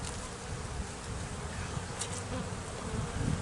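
Bees feeding on pollen in a hive in early March, a dense, steady buzzing hum, close and continuous throughout with no talk.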